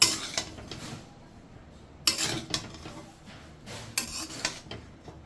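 Fried egg mixed into fried rice in a pan, with a spoon scraping and clinking against the metal in a few sharp strokes spaced by softer rubbing sounds, close and fairly quiet.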